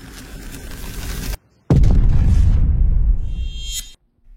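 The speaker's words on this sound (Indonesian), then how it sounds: "si Raga langsung mencet detonatornya dan ledakan kedua pun" A film explosion set off by a detonator: a sudden cut to silence, then a heavy low-frequency boom that rumbles and decays over a couple of seconds with crackling debris, followed by a brief shrill tone and quiet.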